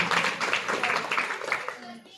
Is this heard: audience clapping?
yes